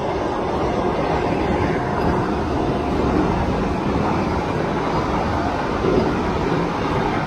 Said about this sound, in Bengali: 22895 হাওড়া পুরী এখন ক্রস করছে আমাদের।